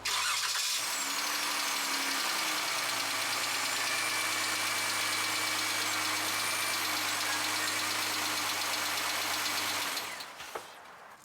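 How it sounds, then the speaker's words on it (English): A 2011-2014 Dodge Charger engine starts and settles into a steady, even idle that runs for about ten seconds before shutting off. "Start the car"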